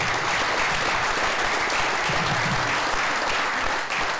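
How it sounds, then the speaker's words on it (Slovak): Audience applause at a Senec sports awards ceremony for athlete of the year, a steady, dense clapping from a large crowd that holds for about four seconds with no talking. "myslím si, že nielen toto si zaslúži veľký potlesk,"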